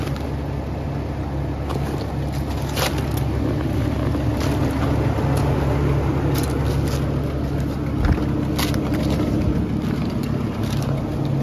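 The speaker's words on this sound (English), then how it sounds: "2005 GMC Canyon. Car starts, runs good." A 2005 GMC Canyon pickup fitted with aftermarket wheels idles steadily, a continuous low engine rumble close by with occasional faint clicks and rattles and no talk over it.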